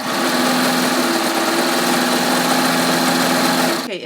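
A sewing machine runs steadily, stitching a strip of knit fabric onto a skirt, with a loud, continuous motor hum that holds for about four seconds and then stops abruptly.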